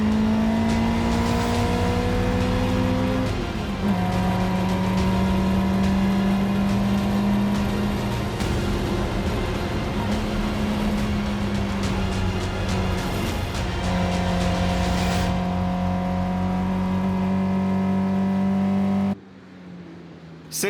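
A classic race car with a small 1600 cc four-cylinder aluminium boxer Twin Spark engine drones loudly at Spa, its steady engine note rising and falling through gear changes for about nineteen seconds before cutting off abruptly.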